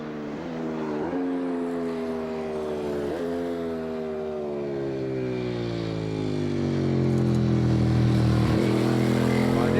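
A Ducati 996 racing motorcycle engine screams near its rev limit on the Isle of Man course, pitch climbing and dipping with gear changes, loud and continuous without any voices.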